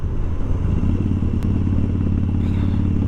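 A motorcycle cruises along a road, its engine a steady, loud rumble mixed with wind and road noise throughout, with no talking.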